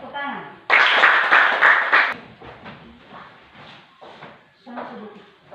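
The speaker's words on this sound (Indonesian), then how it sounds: "Oke, baik, tepuk tangan." A classroom group claps hands together in a short loud burst lasting just over a second, followed by softer scattered sounds and children talking.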